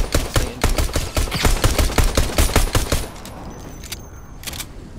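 Rapid pistol fire in the Fortnite video game, a long run of sharp, evenly spaced shots lasting about three seconds, loud and close, then fading to quieter background noise with a final faint shot.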